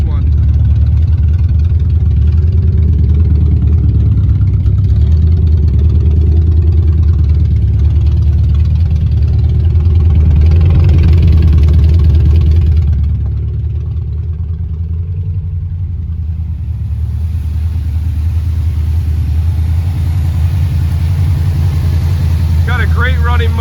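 A truck engine, in good running order, idles with a steady low rumble close by for the whole stretch, and its tone dips slightly partway through; voices talk intermittently over it.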